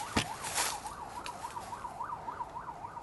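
A nearby emergency siren outside an abandoned house keeps up a rapid wailing oscillation, loud and steady, with a short sharp knock at the start and no voices.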